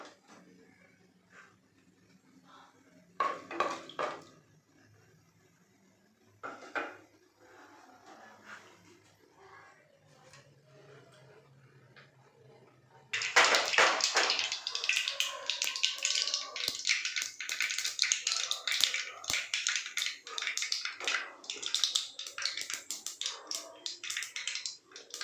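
Mustard seeds hit hot sesame oil in a pan: a few soft taps at first, then a sudden burst of dense, continuous crackling and popping that stays loud and busy to the end.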